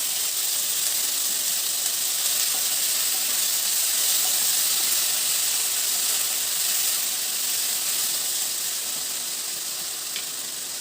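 Paneer masala frying in a pan over a low flame, a continuous soft sizzle and hiss that stays even and steady from start to finish, with no voices.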